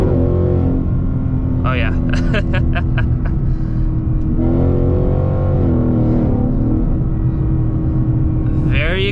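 A Ford Mustang GT in track mode pulls hard from inside the cabin, its engine droning loud and steady with quick upshifts breaking the pitch, while someone talks briefly over it.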